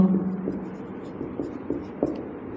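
Pen scratching on paper during an agriculture lesson, faint repeated strokes and taps over a steady low room hum, close but quiet.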